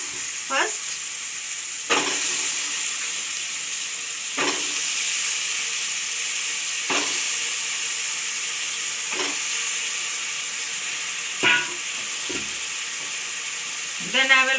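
Masala fries in a pan for a radish and potato dish, making a continuous close sizzle broken by regular scraping stirs every couple of seconds, with a voice heard only faintly, if at all.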